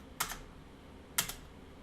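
Keystrokes on a computer keyboard while commands are entered on Cisco lab gear, two short separate bursts of quick clicks about a second apart, quiet and close with no talk.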